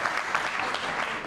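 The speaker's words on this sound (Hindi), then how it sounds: "एक बार मेरी अपलाइन के लिए जोरदार तालियां" Steady applause from an audience welcoming a speaker's upline at a Modicare testimonial event, dense and continuous throughout with no clear breaks.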